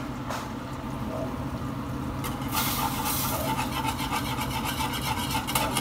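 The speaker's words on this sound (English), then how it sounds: "You're gonna grab your whisk." A whisk scrapes and stirs a thick, pasty glue-like mixture into a sauce, giving a continuous rough rubbing and rasping texture that grows busier and louder partway through.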